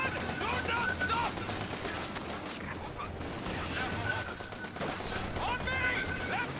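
Battlefield gunfire in the World War II strategy game Company of Heroes 2, with steady machine-gun and rifle fire crackling throughout as soldiers' voices shout over it.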